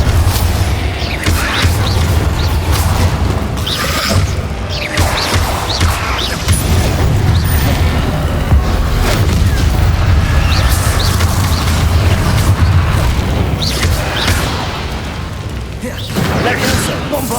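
Repeated Bombarda explosion spells in the Hogwarts Legacy video game, a loud sequence of booming blasts and crashing impacts amid ongoing combat noise, with a voice shouting spell names over the top.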